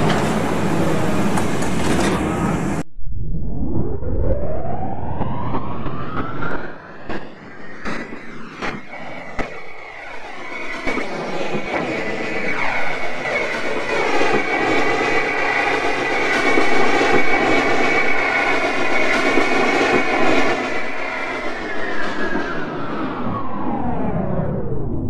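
R68 subway train on the C line leaving a station, a sharp door thump followed by a rising motor whine and growing rumble that holds loud and steady, then fades slightly at the end.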